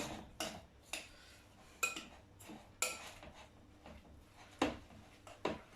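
Carrot cake ingredients being mixed in a bowl with a utensil, a series of light clinks and scrapes against the bowl at an uneven rhythm, close and fairly quiet.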